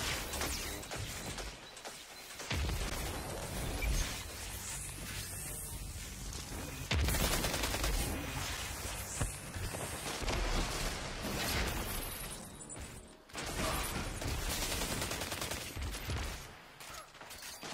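Rapid automatic gunfire from a 600rpm weapon in the shooter game Destiny 2, loud sustained bursts with brief pauses and crashing impacts, no voices.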